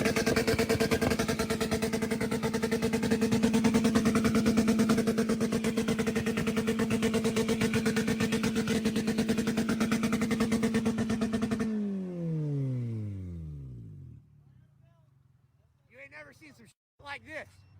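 Toyota Corolla with a swapped Honda B16 engine idling roughly and loudly for about twelve seconds with a steady pulsing throb, then shutting off and winding down, followed by brief faint clicks and voices.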